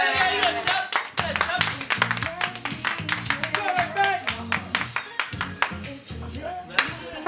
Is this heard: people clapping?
yes